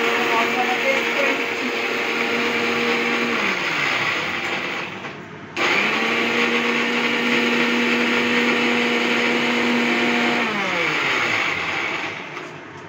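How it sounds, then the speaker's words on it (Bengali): An electric mixer grinder whirs loudly as it grinds roasted spices for pickle, running in two long bursts separated by a brief pause, then winding down. "চলো ভাজা মশলাটা আমি মিক্সিতে ঘুরিয়ে নিচ্ছি"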